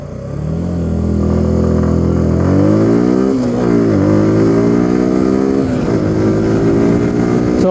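A Suzuki Gixxer SF 155 motorcycle on a test ride revs up loudly through the gears, its engine note climbing and then dropping at each shift, with a steady close-up roar throughout.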